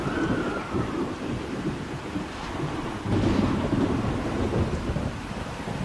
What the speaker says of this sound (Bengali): মুহূর্তের মধ্যে শুরু হয় প্রচণ্ড ঝড়।